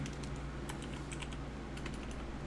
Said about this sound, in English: I'm probably going to stop typing because I'll get into the audio feed